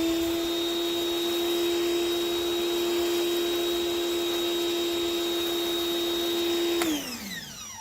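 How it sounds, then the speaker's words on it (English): A Sun Joe pressure washer runs with a steady, loud motor whine while spraying soap in a gentle mist, holding constant for several seconds before the pitch drops sharply as it shuts off near the end. "It's a pretty gentle mist that just sprays the soap all over."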